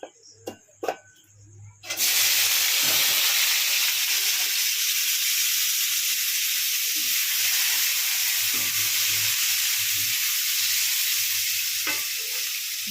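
Boiled potatoes drop into hot sunflower oil after a few light clunks. A loud, close sizzle bursts out at once and settles into a steady frying hiss.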